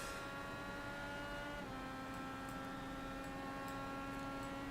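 An IndyCar engine drones steadily in a racing video game at Silverstone, holding a sustained whine that shifts pitch once partway through, with faint clicks above it and no voices.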